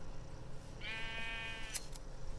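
A sheep bleats once in modded Minecraft, a short wavering game-sound bleat standing clearly above a soft constant background hiss.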